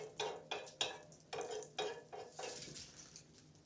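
A frying pan over a stove in a Finnish winter house gives out soft, quiet sizzling, mixed with rhythmic scrapes and clinks of a utensil stirring against the pan.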